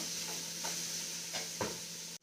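Finely chopped onions frying in a pan, a steady soft sizzle with a few scraping stir strokes from a spatula, close and moderately quiet, no talking, ending abruptly.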